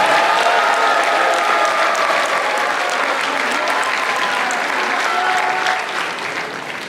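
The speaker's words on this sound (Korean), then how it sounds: "박수 한번 크게 보내주시기 바랍니다" A large audience at a political party training event and inauguration ceremony claps loudly and continuously, a thick, even wash of applause that eases off slightly near the end.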